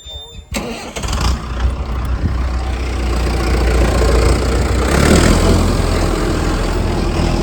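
A heavy tractor engine cranks and catches abruptly, then settles into a loud, steady running rumble close by, with voices talking over it.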